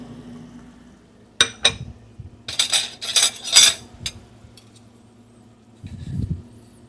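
Metal utensils clink and scrape against a plate as cooked pork is moved onto it in a small vacation rental kitchen, giving a few quick taps and then a cluster of bright chinks, with a soft stovetop hum underneath.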